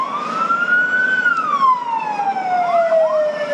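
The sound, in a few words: fire truck siren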